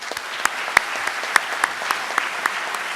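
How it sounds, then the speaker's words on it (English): A graduation audience at a regional firefighter academy commencement applauds, a steady mid-level patter of many hands with a few sharper nearby claps standing out. "So a round of applause for them, please."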